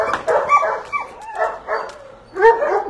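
Dogs at a dog and cat hotel in Kumköy, Manavgat, barking and yipping in close, loud bursts mixed with whimpers, several short volleys spread across a few seconds.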